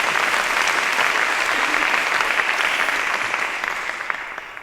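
Audience applause at the opening plenary of the 2015 Dance/USA Conference in Miami, a dense, steady wash of many hands clapping that stays loud throughout and eases slightly toward the end.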